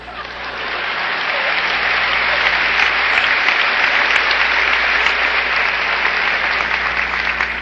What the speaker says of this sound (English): it's premature, your applause